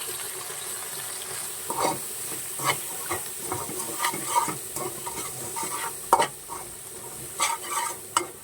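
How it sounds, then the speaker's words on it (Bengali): Turmeric, chilli, coriander and cumin powders sizzle steadily in a hot pan, with intermittent scraping and clinking as they are stirred. "মশলা কষানো হয়ে গেছে"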